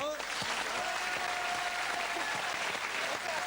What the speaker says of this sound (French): je vous demande d'applaudir avec moi Florence qui est là.